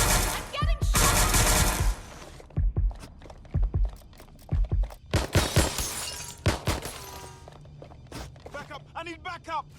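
Bursts of video game gunfire, rapid automatic volleys and single shots with a shattering crack, while voices talk over the action.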